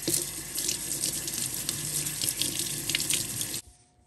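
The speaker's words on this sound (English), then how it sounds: "We're gonna wash our half onion." Tap water runs steadily into a sink while half an onion is rinsed under it, a close, continuous splashing rush that stops abruptly near the end, leaving quiet.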